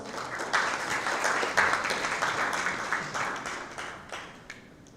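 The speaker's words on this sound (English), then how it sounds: "Please, ladies and gentlemen, give a round of applause" An audience at a formal speech event gives a round of applause, dense sustained clapping that swells early and gradually thins and fades over five seconds.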